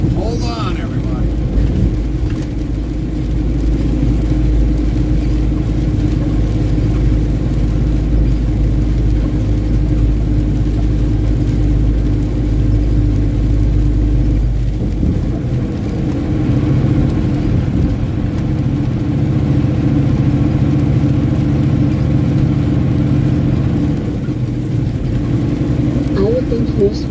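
Ford Bronco engine and road noise heard from inside while driving, a loud steady low rumble holding throughout with a brief shift midway, and people talking over it.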